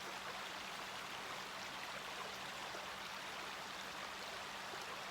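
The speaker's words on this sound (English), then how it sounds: "the sound of the water" Faint, even rush of river water flowing continuously, with no pauses, breaks or voices, and a low steady hum underneath.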